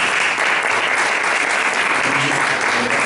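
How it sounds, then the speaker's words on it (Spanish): Steady, loud applause from an audience after a talk on school violence, filling the whole stretch with dense clapping and no break. "Un aplauso."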